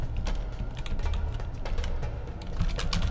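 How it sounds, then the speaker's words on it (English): Rapid typing on a computer keyboard during a tabletop role-playing session, with a steady patter of close, crisp key clicks heard alone and without talk. "I'm typing it in."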